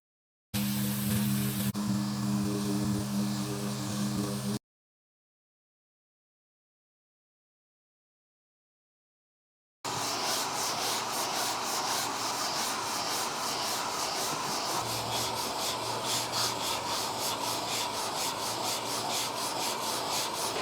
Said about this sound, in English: we're going to run over it with some 80 grit